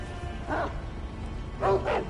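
A dog in the game Sekiro: Shadows Die Twice gives one short bark and then, after a pause, a quick double bark, fairly close over a low background hum.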